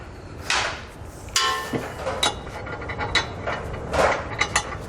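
Flange nuts go onto the brackets of a B and W Companion fifth wheel underbed kit with close metallic ratcheting and clanking in uneven bursts, against a steady workshop background.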